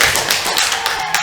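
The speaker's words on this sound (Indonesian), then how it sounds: "tepuk tangan." A classroom of middle school students gives a short burst of applause, loud and close, with dense overlapping claps.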